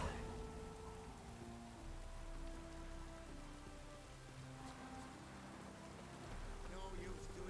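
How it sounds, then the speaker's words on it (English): Steady rain falls in The Witcher 3: Wild Hunt, a continuous hiss of drops on surfaces that holds at an even level throughout, with background voices and game ambience underneath. "No use doing any work in this rain"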